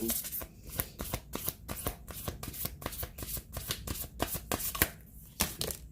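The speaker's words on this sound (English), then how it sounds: "Only the cards that flip out onto the table" A healing mantra oracle card deck shuffled by hand, a dense, rapid riffling flutter of card edges close up, with sharper snaps as cards fly loose onto a table.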